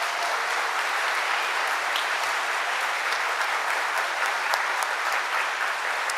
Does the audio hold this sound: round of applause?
yes